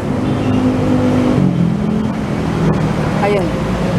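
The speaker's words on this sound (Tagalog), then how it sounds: "Hala, traffic yata. Traffic." Street traffic on the way to Quiapo on a busy first Friday, with car engines rumbling close by and a steady traffic drone under brief talk.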